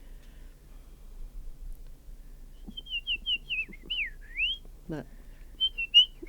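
A person whistles an imitation of a house finch's springtime song in a quiet room, several quick warbled notes rising and falling, then a few soft closing notes, with brief low vocal sounds in between.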